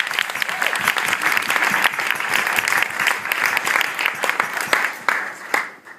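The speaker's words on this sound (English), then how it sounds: "Can we give a round of applause again?" Wedding guests give a sustained round of applause after a father-of-the-bride speech, dense, even clapping from a room full of people that thins and fades over the last second.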